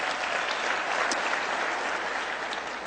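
Steady, dense clapping from a seminar audience fills the whole stretch at moderate volume, with no talking over it.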